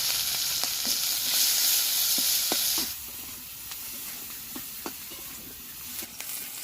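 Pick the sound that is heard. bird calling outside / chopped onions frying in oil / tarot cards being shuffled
chopped onions frying in oil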